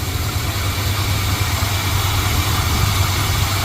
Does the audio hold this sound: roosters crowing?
no